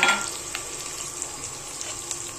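Okra with garlic and onion frying in a pan, a close, steady hiss and crackle with small pops over the short stretch and a brief louder burst right at the start.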